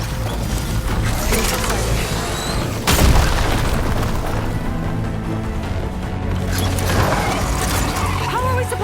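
In Horizon Forbidden West, a hovering machine creature powers up to fire, a loud dense mechanical whirring and grinding with a heavy boom near the start, layered under game music and effects.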